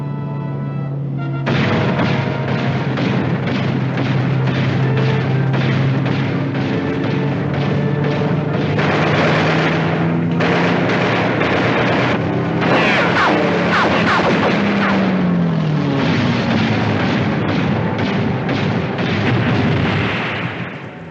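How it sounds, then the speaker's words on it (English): An aircraft bears down on a warship amid anti-aircraft fire in a 1956 war film, a loud continuous engine roar laced with rapid gun bursts and booms that swell and fade over about twenty seconds. "Unidentified aircraft on port beam."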